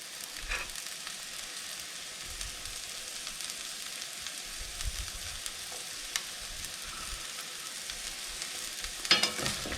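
Stir-fried rice with carrots and celery sizzling in a frying pan as it gets a full stir; low, steady crackling sizzle with soft scraping and brief clinks, no speech.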